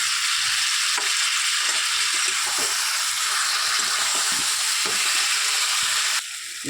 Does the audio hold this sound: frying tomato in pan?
yes